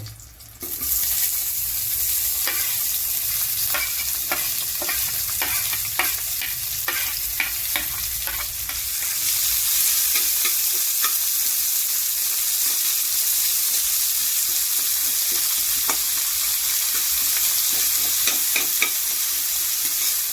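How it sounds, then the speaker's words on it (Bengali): Chopped onions sizzle and crackle steadily in a hot pan while a utensil scrapes and stirs them in repeated strokes, the frying hiss swelling partway through; no voices. "এবার আমি এর মধ্যে কেটে রাখা পেঁয়াজগুলোকে দিয়ে দেব।"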